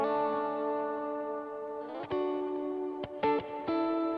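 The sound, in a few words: electric guitars with reverb and delay effects, Strymon pedals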